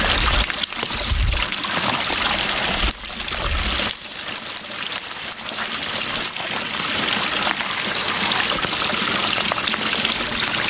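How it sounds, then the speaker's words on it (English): Water trickles and splashes steadily from a water supply at a wild camp, a close, continuous rushing flow with brief louder gushes near the start. "Water."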